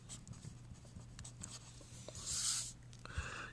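Pen or pencil writing out an algebra equation on paper, with steady soft scratching strokes and taps close by, fairly quiet, with no speech.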